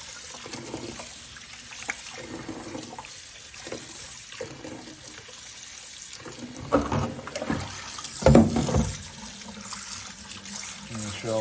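Running water from a faucet rinses a raw octopus in a sink, a steady splashing stream with louder surges and spatters near the end, and someone talks over parts of it.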